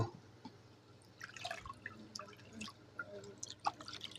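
Water drips and trickles faintly at a sink during handwashing, with scattered small splashes and irregular plinks against a low background hum.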